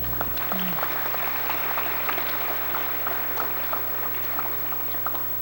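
Applause at a radio station anniversary event, crowd clapping steadily with a crackly texture over a low constant hum from the sound system.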